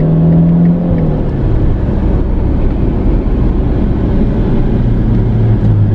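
A Ferrari engine revs and accelerates inside a tunnel, a loud, close, continuous roar with rising pitch and reverberant whir filling the whole span.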